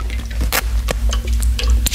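Irregular water drips and wet squishing sounds land close by, with sharp little splashes scattered over a steady low hum.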